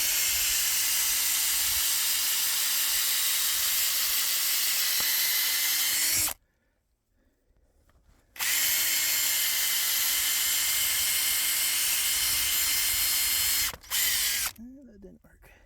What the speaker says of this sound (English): So I just pick a spot in the ground, use a drill.